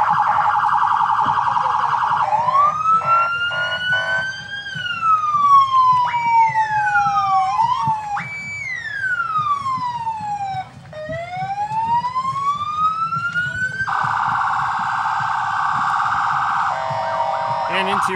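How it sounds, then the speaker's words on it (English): Kenosha police cars at a veterans parade blare loud wailing and yelping sirens that rise and fall in shifting patterns for a long stretch, with several horns overlapping and a low crowd murmur underneath. "What's a parade without sirens, right?"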